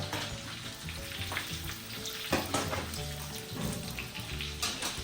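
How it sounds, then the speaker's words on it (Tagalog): Water is poured into a hot pan of bistek tagalog, hissing and sizzling steadily, with splashes and a faint stirring clatter close by. "Saka syempre magdadagdag na rin tayo dito ng tubig."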